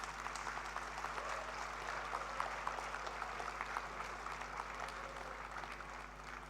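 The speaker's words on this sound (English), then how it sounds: "Let us applaud the graduating students" An audience at a convocation ceremony applauds graduating students, a steady, dense wash of clapping from a large crowd, sustained and even throughout with no voices over it.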